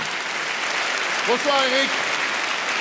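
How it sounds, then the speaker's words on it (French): Steady crowd applause fills a theatre at a live magic show as two volunteers come up on stage, with a voice greeting one of them over the continuous clapping. "venir me rejoindre sous un tonnerre d'applaudissements d'une foule en délire"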